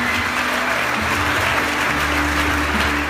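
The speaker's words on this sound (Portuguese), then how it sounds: "Dê uma salva de palmas, Senhor Jesus." Congregation applause at a church missions congress, broad steady clapping from a crowd filling the room for about three seconds with no voices over it.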